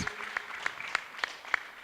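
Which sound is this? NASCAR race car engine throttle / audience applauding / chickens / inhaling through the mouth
audience applauding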